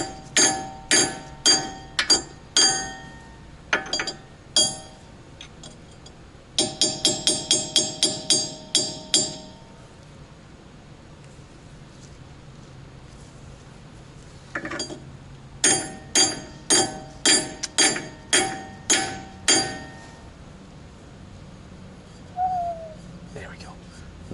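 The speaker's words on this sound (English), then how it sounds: "I'm using a brass hammer to" A brass hammer taps on a car part while an ABS fault is being fixed, giving sharp metallic ringing strikes in quick bursts of several blows, with pauses between groups and quiet background sound.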